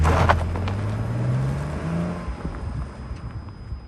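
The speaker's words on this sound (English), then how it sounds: "let's hop in the car and go for a spin" A BMW Z4 pulls away, its engine note climbing steadily as it accelerates from close by, then easing into a quieter rolling hum with light road noise.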